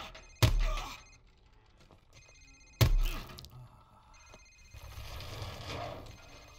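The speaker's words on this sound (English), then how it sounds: "Sir, it's his cell phone." A cell phone rings twice in a tense interrogation scene in Modern Warfare Remastered: two sharp, loud ring bursts a couple of seconds apart over a low ambient hum, with a burst of rustling noise near the end.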